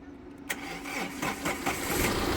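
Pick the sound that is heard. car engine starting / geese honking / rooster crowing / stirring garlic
car engine starting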